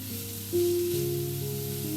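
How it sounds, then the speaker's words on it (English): Bacon-wrapped rolls sizzle steadily in a hot frying pan, a constant close frying hiss with a faint tonal hum underneath, growing slightly louder partway through. "Grandma would put the bacon wrapped rolls on a hot frying pan and fried them"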